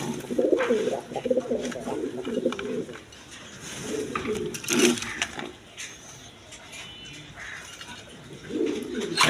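Big-sized pigeons cooing in repeated low throaty bursts, fairly close, with gaps of quieter background and a hint of wing movement.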